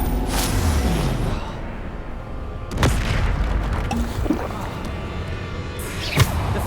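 Bombarda blast spell in Hogwarts Legacy, heavy booming impacts that land at intervals across a spell-casting fight, with the loudest hits near the start, middle and end, under a voice.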